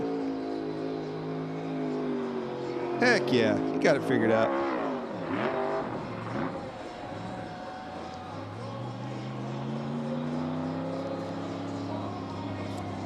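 NASCAR Cup Series car doing a burnout at the Würth 400, engine revving and tires squealing in bursts around the middle, fairly distant under crowd noise while commentators talk throughout.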